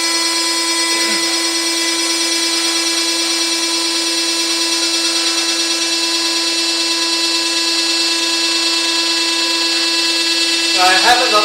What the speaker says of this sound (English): The spindle motor is cranking, the cutter.